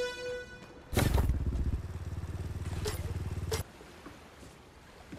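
A four-wheeler engine in the Fortnite video game revs up abruptly, runs with a steady buzzing putter for about three seconds, then cuts off, close and fairly loud.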